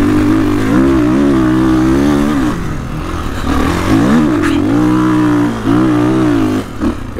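A 2022 Kawasaki KX450X dirt bike engine pulls hard in second gear on sandy ground, its loud, close revs rising and dipping in steady surges with no talk over it.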